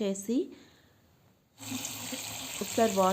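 Tap water runs over a batch of mixed sprouting grains being washed. The gushing flow starts partway through and continues loudly, and a voice speaks at the start and end.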